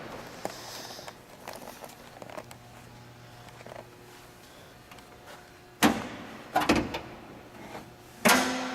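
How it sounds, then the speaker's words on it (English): A heavy steel door on a 1958 Oldsmobile Tremendous 88 hardtop shuts with a solid slam, followed by smaller thuds and rattles and one more sharp knock, close up in a quiet space. "let me close this door"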